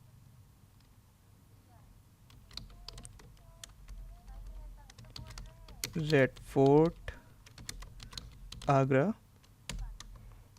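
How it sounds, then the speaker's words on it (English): Computer keyboard keys are tapped in quick irregular bursts while entering text in MS Word 2016, and someone talks over the typing close to the microphone. "Then I am typing here"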